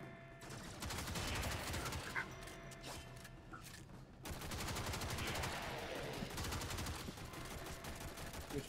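Rapid gunfire in Warframe striking a wall, dense continuous bursts that pause briefly midway and then resume, steady and fairly loud throughout.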